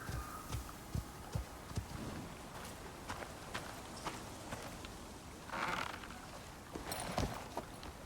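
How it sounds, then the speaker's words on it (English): Horse hooves clip-clop in the video game Icarus, a faint, uneven patter of steps under soft ambient noise. "There you are, horse."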